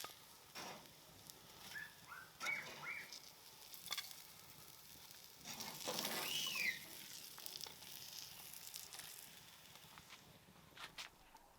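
Meatballs sizzle faintly as they fry in oil in a home kitchen. A soft, steady crackle runs throughout, with occasional louder spits and the light clatter of a utensil. No one talks.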